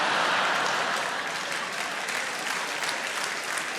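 A comedy club audience at a live stand-up show breaks into applause, a continuous, full round of clapping that starts loud and tapers gently while staying sustained throughout.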